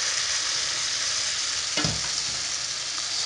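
Bacon and pasta fry in a hot pan with a constant loud sizzle. Midway, a brief scraping clatter of stirring and mixing rises over the hiss, then the steady frying carries on.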